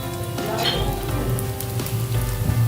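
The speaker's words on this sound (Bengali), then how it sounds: "এখানে সরিষার তেল দিয়েছে। এই যে আমি বড়িগুলো তেলে দিয়ে দেবো।" Lentil dumplings (bori) fry in hot mustard oil, a steady dense sizzle and crackle close up, unbroken throughout with no voices.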